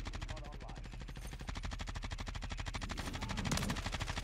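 An automatic weapon in Call of Duty: Modern Warfare III fires without pause, a rapid, even stream of loud shots lasting the whole stretch and growing slightly louder near the end.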